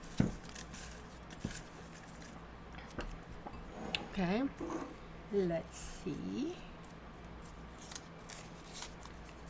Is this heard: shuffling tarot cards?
yes